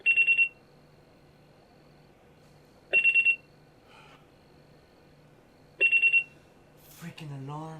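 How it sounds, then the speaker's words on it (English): An electronic alarm rings in three short, evenly spaced bursts of rapid beeping in a quiet room, followed by a brief human vocal sound at the end. "Freaking alarm."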